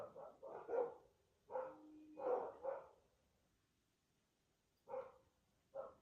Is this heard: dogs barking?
yes